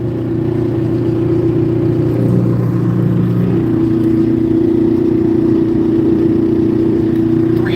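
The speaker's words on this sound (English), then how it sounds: "That loud sewing machine sound is the rear axle." A high-mileage service truck drives steadily at speed with a worn rear axle giving off a loud, constant whining drone over engine and road rumble, its pitch shifting slightly partway through.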